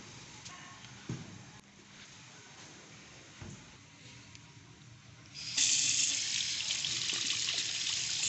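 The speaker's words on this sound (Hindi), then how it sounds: "और यहाँ पे दरअसल गर्म पानी है।" Hot water from a geyser-fed tap runs in a washroom, a low trickle and faint splashes that swell into a stronger, hissing stream of water partway through, close by with no speech.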